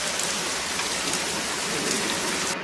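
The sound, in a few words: heavy rain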